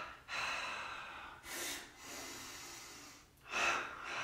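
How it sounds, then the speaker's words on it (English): Energetic breathing through the nose during chair yoga: two sharp inhales and exhales, close and fairly quiet, spaced across a few seconds with brief pauses between them. "Two inhales and two exhales."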